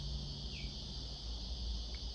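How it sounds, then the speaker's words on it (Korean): Steady, continuous insect buzzing, likely cicadas, outdoors on a morning in Australia, forming a dense unbroken drone with a faint low hum beneath and no voices. "매미 소리인가?"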